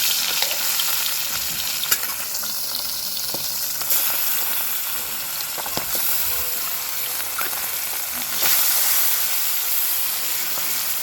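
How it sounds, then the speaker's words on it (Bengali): Parshe fish frying in hot oil makes a loud, continuous sizzle with occasional stirring clicks, and the hiss swells briefly toward the end, with no talking over it. "আমার তেল গরম হয়ে গেছে, এবার মাছগুলোকে আস্তে আস্তে ছেড়ে দিচ্ছি"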